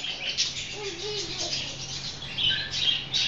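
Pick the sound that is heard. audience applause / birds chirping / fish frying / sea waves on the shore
birds chirping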